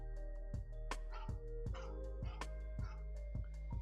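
A dog barks in repeated sharp yaps, several evenly spaced over a few seconds, over steady background music during an eMLB baseball postseason stream.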